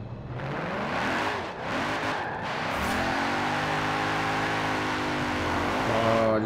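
A 1987 Mercedes-AMG S65 Hammer Coupe in a racing video game revs and accelerates, its engine rising in pitch, dipping at a gear change, then pulling hard and steady at close range, with no voices.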